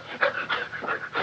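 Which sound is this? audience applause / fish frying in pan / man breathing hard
man breathing hard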